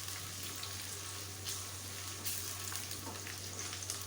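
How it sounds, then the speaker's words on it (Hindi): Onions browning in oil for aloo palak make a steady, fairly quiet crackle with a low hum running underneath and no speech. "थोड़ा सा फ्राई करें, प्याज अच्छी तरह से ब्राउन करने हैं लाजमी"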